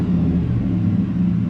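A truck engine, running after its VIN was rewritten in a salvage yard PCM, gives a steady, deep idle rumble close by, with an even, continuous tone and no voices over it.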